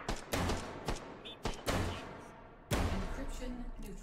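Mag 7 pump shotgun blasts in Hitman, four loud sharp shots spaced irregularly, each with a short ringing tail, no talking over them.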